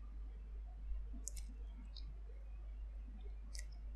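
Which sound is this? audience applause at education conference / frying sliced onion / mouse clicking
mouse clicking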